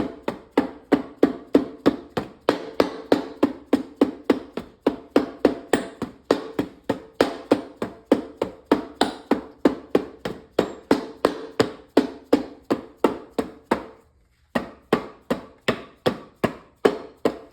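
A hammer knocks a part into a Powerglide automatic transmission during a rebuild, delivering a long steady run of sharp metallic blows at an even rhythm, close and loud, with a brief pause near the end before the strikes resume.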